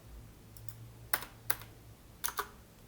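Keystrokes on a computer keyboard used for audio editing software shortcuts: a few sharp separate clicks, mostly in small pairs, over a low steady hum, fairly quiet and with no voices.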